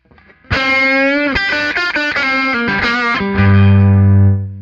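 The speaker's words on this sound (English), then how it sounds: "to get to a kind of a half-cocked wah sound" An electric guitar through an EQ pedal, in an Albert King style tone, plays a short phrase of sustained notes with a nasal, half-open wah-like filtered tone, ending on a long low held note.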